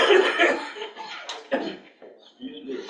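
Repeated coughing from a person at a county commissioners meeting, a few rough bursts mixed with nearby talk and room murmur.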